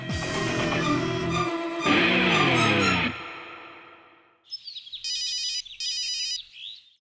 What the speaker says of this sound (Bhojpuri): जोया के फोन पर।